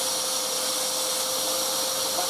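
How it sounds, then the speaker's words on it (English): VAX 6131T Multivax 3-in-1 wet and dry vacuum extracting a bedroom carpet, a steady loud motor whine and airy suction hiss running unbroken and close throughout. "Multivax 3-in-1 wet and dry vacuum"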